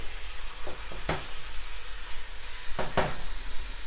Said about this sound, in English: we're just going to be browning up the meat to add a little bit of flavor